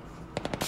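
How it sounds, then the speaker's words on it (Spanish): Machine gun fire in the video game Battlefield 3 during a night mission, a quick burst of four or five sharp shots after a brief quiet stretch. "hay disparos todavía"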